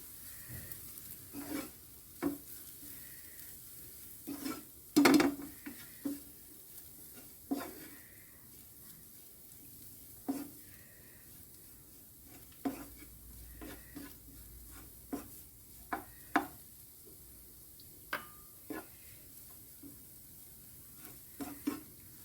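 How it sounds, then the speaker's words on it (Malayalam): Coriander and chilli powders stirred and sautéed in a pan for an idichakka (tender jackfruit) cutlet, giving quiet scraping strokes with a soft sizzle underneath, repeated irregularly throughout, no voices. "1 സ്പൂൺ മല്ലിപ്പൊടി, 1 സ്പൂൺ മുളക് പൊടി ചേർത്ത് നന്നായിട്ടൊന്ന് വഴറ്റിയെടുക്കാം."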